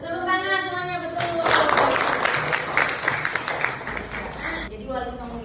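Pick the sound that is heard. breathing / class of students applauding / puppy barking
class of students applauding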